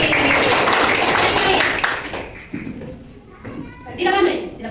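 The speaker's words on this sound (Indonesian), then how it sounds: "Ya, tepuk tangan untuk Joyce." Schoolchildren in a classroom clap together in a brief, lively burst that stops after a couple of seconds, followed by children's voices talking nearby.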